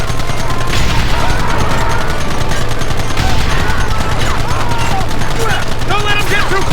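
A Red Dead Redemption firefight against men behind rocks, with dense overlapping gunshots and shouting voices in a loud, continuous battle mix and bursts of ricochet-like whines near the end.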